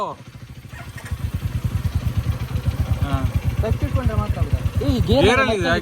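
A motorcycle engine runs steadily at close range during a riding lesson, a throbbing idle whose rhythmic pulse grows slightly louder, with people talking over it.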